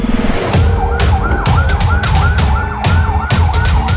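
An ambulance arrives at a hospital with a loud, close siren wailing in repeated rising and falling sweeps, accompanied by engine and traffic rumble, with no talk.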